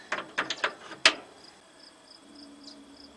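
Trunk hatch latch hardware being tightened on an LS-swapped 5.3 Pontiac Firebird: a quick run of four or five close metallic ratcheting clicks, then a sharper final click, followed by faint ticking.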